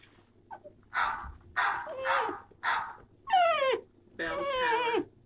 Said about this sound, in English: Bark.